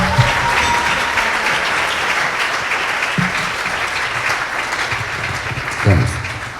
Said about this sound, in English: let's give a round of applause to the bride and groom.